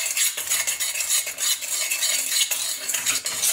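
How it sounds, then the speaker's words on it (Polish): Cocoa, butter and water stirred in a pot on a small stovetop burner, with a continuous scraping, clinking stir of a utensil against the pot and a faint sizzle, steady throughout with no talk. "Teraz trzeba wszystkie składniki oczywiście wymieszać dobrze i rozpuścić."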